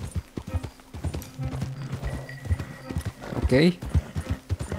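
Horse hooves clip-clop in a steady galloping rhythm in the video game Red Dead Redemption 2, mid-loud beneath someone talking, with a short whinny-like burst near the end.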